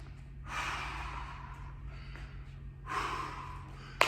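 After a rope climb, a person breathes heavily close by: two long, rough, hissing exhalations separated by a short pause, over a low steady hum, with a sharp click at the end.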